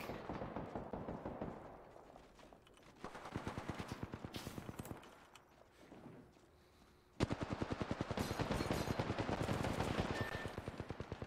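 Apex Legends gunfire: rapid automatic bursts crackling in runs of sharp repeated shots, loudest and densest in a sustained stretch near the end, with brief quieter gaps between volleys.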